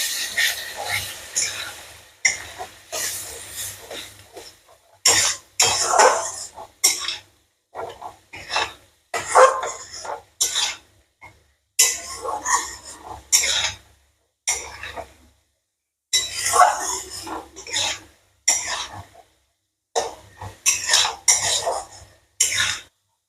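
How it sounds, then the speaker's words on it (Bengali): A spoon scrapes and stirs sesame paste fish curry in a pan, rhythmic rasping strokes in short bursts separated by brief pauses, close and moderately quiet. "এবার একটু নাড়াচাড়া করতে হবে।"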